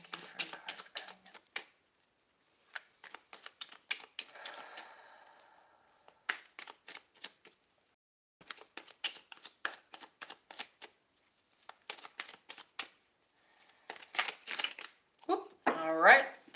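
Tarot cards are shuffled by hand in repeated bursts of crisp riffling and flicking, close and clear, with short pauses between bursts and a voice speaking briefly at the end.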